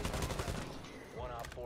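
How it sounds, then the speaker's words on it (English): Rapid gunfire from Rainbow Six Siege cracks out in a quick, loud burst of close shots at the start, then gives way to game noise and a brief voice. "I just shot him in the head, and he lived."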